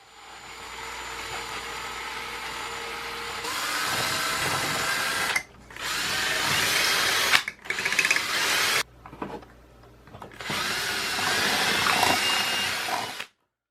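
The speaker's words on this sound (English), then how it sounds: "I needed to drill some holes into the arm piece" Power drill boring holes into a Fallout Pip-Boy arm piece, several sustained whirring bursts close to the microphone with short pauses between them.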